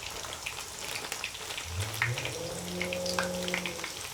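Garlic sizzles in a hot pan as it is frying, a steady crackling hiss with a brief tonal scrape partway through, fairly close and with no talking.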